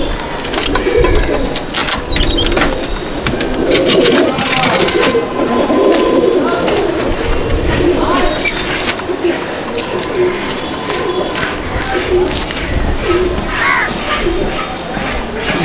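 Pigeons coo inside a loft, a busy layer of soft calls close by under steady background noise.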